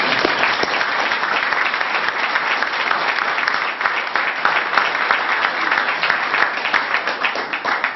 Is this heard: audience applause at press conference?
yes